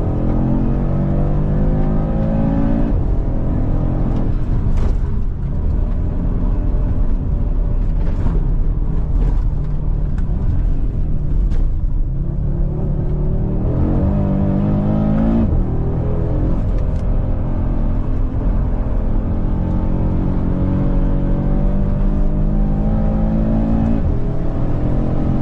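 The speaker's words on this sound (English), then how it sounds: "the RS3 actually rotates under brakes and on a trailing throttle too" An Audi RS3 lapping a tight little track, engine rumbling and revving as it brakes and rolls on a trailing throttle, loud and close with rising and falling engine pitch and no talk.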